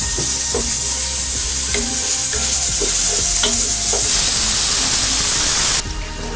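Onion paste frying loudly in oil in a pan for mutton masala gravy, an intense close sizzle with scraping spoon strokes as it is stirred, dropping suddenly quieter near the end.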